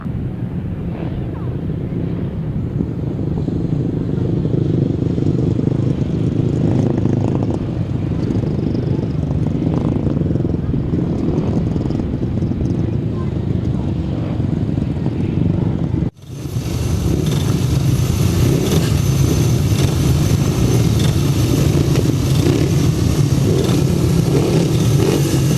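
500cc solo grasstrack racing motorcycles at a race start, a loud sustained engine roar from several bikes that swells, dips briefly, then returns even louder and brighter, with faint commentary underneath.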